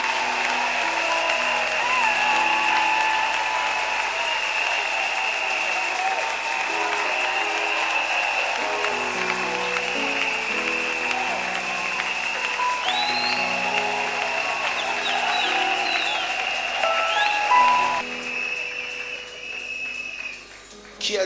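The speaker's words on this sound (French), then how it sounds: "nous acclamons très fort" A church congregation claps loudly and continuously, a dense sustained wash of applause with an organ or keyboard chord droning underneath, fading slightly near the end.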